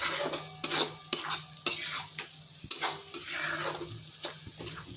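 Onion being stirred with masala in a pan, a series of close metal scrapes and clatters of a spoon against the pan over a soft sizzle, in uneven strokes.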